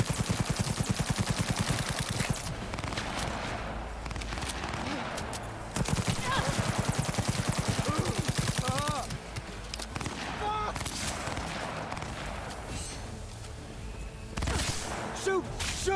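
Gunfire in Cyberpunk 2077, bursts of rapid automatic shots that stop and restart across the stretch, mixed with shouted voices and other game sounds.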